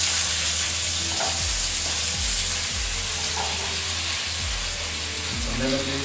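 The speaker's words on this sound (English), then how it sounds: "So let's go and saute this." Garlic and baby spinach sauté in a hot pan with a dense, constant sizzle. Regular scraping strokes from a spatula stirring the pan sit clearly on top of it.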